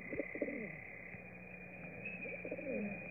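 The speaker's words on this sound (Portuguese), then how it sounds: "Ouvi a voz de um pássaro." Soft cooing of a dove-like bird in the woods near a river, two short rhythmic phrases of hollow coos, faint and somewhat distant over a quiet background.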